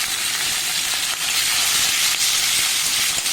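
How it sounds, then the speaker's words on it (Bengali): Black cumin seeds and slit green chillies fry in hot oil, making a loud, close, unbroken sizzle and hiss with no talking over it. "এই তেলেই আমি শুধুমাত্র কালো জিরে আর কয়েকটা চেরা কাঁচা লঙ্কা"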